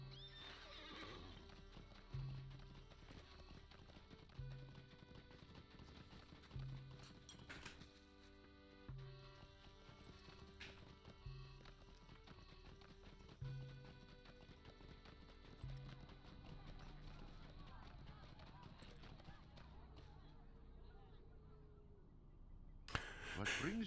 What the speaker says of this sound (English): I guess I can get on my horse and go a little bit faster.